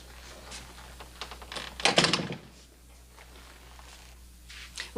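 An interior door closes with a single solid thunk in the middle of a quiet room scene from a cowboy film, with faint background noise before and after.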